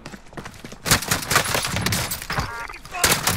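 Gunfire in the Warzone video game, a shotgun among several loud shots in quick bursts, with a dense spell of firing in the middle and another blast near the end, over game noise and low chatter.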